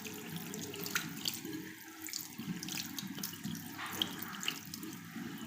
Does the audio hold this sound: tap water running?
yes